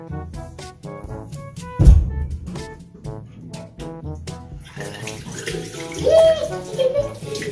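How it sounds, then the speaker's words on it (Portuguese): Water runs from a tap into a basin in a home, a steady splashing rush with a louder splash early on, while a child and an adult talk over it. "Vamos, Breno, fecha essa torneira e se enxuga, vai."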